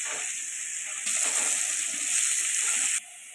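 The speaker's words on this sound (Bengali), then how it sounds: "আলুগুলো ভালো করে বাদামি কালার করে ভেজে নেব।" Potato pieces fry in oil with salt and turmeric, hissing in a constant sizzle that surges louder for about two seconds in the middle before settling back down.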